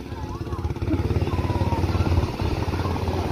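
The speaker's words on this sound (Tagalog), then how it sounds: "Banda na yung makina ng paraw." The diesel engine of an outrigger sailboat chugging steadily nearby with a rapid, pulsing rhythm, loud and constant, with a faint voice underneath.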